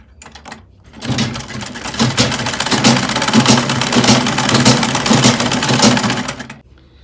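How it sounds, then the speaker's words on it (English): A sewing machine topstitches a pinned seam on an off-shoulder, long-sleeved bodycon gown, running as a steady close mechanical whir for about five and a half seconds after a brief quiet start. "Then I can top stitch them to keep it in place."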